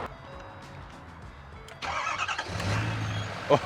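A diesel truck engine cranks with the help of a YESPER Speed 4120 jump starter and catches at once, then settles into a loud, rough idle that rises briefly, close to the microphone, with a short burst of handling noise at the end.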